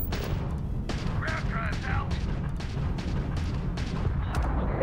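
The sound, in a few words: ballistic cannon firing in video game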